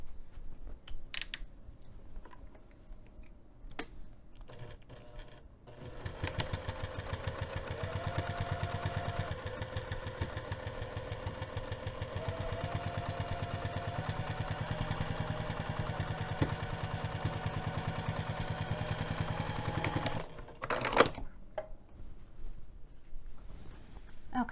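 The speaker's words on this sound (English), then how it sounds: "So I'm going to take this over to the sewing machine." A sewing machine set to a 3 mm stitch length sews the sides and bottom of a bag flap, running in a steady, fast rhythmic whir for about fourteen seconds between brief handling sounds.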